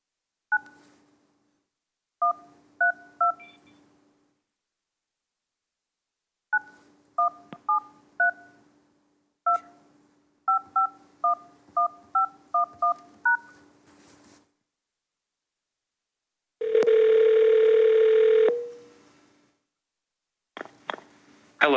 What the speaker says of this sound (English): just one moment and I will dial them in